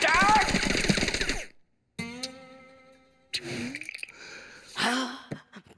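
Cartoon gunfire from Oggy and the Cockroaches, with a gun that shoots pencil bullets: a loud, rapid rattling burst lasting over a second, followed by silence and then gasps and cartoonish vocal sounds.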